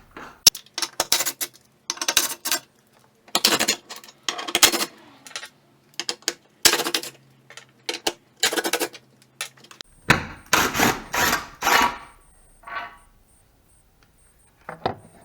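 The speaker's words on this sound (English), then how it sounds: "Then we got to remove 8 bolts off of the factory tire carrier." Bolts being worked off a factory aluminum tire carrier on a Jeep with a socket on a long extension: repeated close metallic clicks, rattles and clanks in bursts, ending in a denser flurry of clinking metal.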